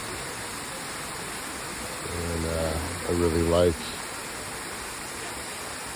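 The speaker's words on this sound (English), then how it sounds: "several waterfalls and streams cascading into it" Several waterfalls and streams cascade into a quiet pool at Plitvice Lakes National Park in Croatia, giving a steady, even rush of falling water throughout, with someone speaking briefly over it midway.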